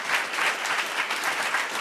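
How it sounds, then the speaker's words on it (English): A town hall audience breaks into brief, lively applause, a dense wash of many hands clapping close and steady with no voices over it. "Let's give her a round of applause."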